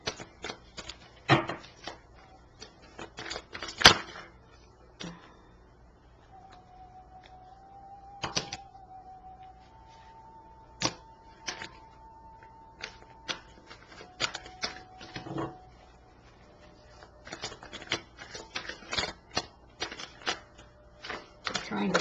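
Tarot cards being shuffled give quick, papery flutters and taps in irregular bursts under a person talking softly, with a faint electronic tone now and then.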